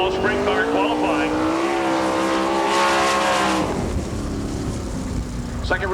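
Outlaw sprint cars run on a dirt track during qualifying at an All Star Circuit of Champions event in Woodstock, Georgia, a loud engine whining up in pitch, then dropping as it passes, with an announcer talking over it.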